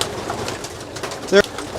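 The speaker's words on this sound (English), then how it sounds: "These birds here are very responsive, and they are thirsty." Pigeons kept in a loft give a short burst of calls close by, over a background of low chatter and bird noise.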